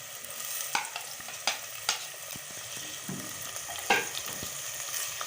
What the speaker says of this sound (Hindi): चॉप किए हुए टमाटर डाल देते हैं